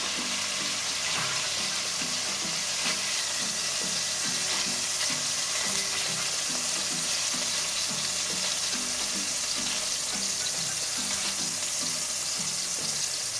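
Chunks of beef browning in a hot pan for bœuf bourguignon, a loud continuous sizzle and crackle with steady frying hiss throughout, no voices.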